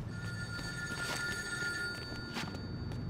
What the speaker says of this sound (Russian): Это телефон.